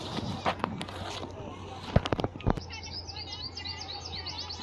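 Small birds chirp in quick, high, repeated tweets at a zoo park in Jamnagar, Gujarat, following a few thuds and footstep-like knocks, with faint background chatter.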